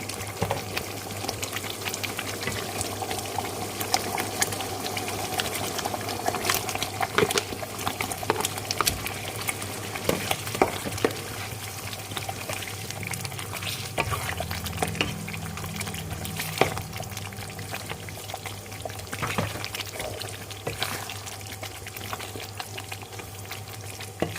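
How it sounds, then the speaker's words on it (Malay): Continuous bubbling and sizzling of a pot of coconut milk at a steady boil with beef simmering in it for rendang, small pops and crackles throughout and occasional light clatter nearby. "Santan dah mendidih macam ni, kita masukkan daging ya"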